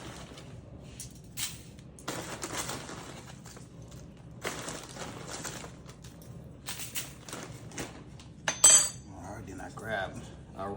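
A spoon scraping and clinking through hardened brown sugar in a bowl, irregular bursts of scratchy clatter with brief pauses, close and moderately loud, with one sharper clink near the end.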